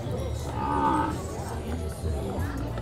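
Cattle at a farm, a low, drawn-out moo rising and fading within a noisy crowd of livestock sounds and people talking nearby.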